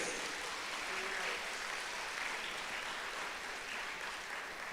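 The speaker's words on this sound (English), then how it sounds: "So clap them for their resilience." A graduating class at a college valedictory service is applauded by the audience, steady and sustained clapping filling the hall for several seconds, with a faint voice briefly audible underneath.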